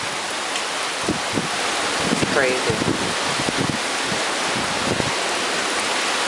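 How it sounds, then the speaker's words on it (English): High winds and heavy rain lash the Chicago suburb of Bolingbrook during a tornado storm, a loud continuous roar with wind buffeting the microphone, while a person speaks briefly over it. "Chicago suburb, Bolingbrook, is experiencing some high winds and a lot of rain right now."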